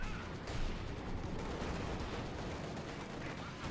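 Dense, continuous battle gunfire in Company of Heroes 2, a machine gun and other weapons rattling without pause over a thick low rumble, steady and fairly loud throughout.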